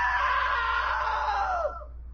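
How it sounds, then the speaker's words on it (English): A character's long, loud scream in the video game What Remains of Edith Finch, sustained and then sliding downward before breaking off abruptly near the end. "Now that was a great scream"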